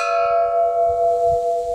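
A large village bell struck by children rings out loud and near, its bright metallic tone holding and slowly fading with a gentle beating shimmer.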